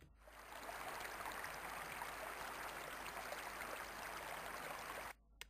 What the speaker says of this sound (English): we'll be able to hear the sound of that running water